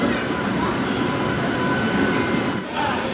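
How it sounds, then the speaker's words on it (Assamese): A passenger train pulls into a railway platform in Gujarat, with loud continuous wheel rumble and rail roar near at hand, a brief dip near the end, and possible faint voices in the background. "আৰু এখন ট্ৰেইন আহিলে।"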